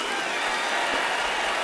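Concert crowd applauding at a salsa orchestra's anniversary show, a continuous thick wash of clapping and cheering that holds at full level throughout.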